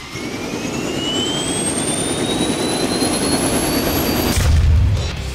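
British heavy seaborne fighter engine in the War Thunder video game, a loud continuous jet roar with a rising whine that climbs steadily, ending in a deeper boom-like swell, heard alone.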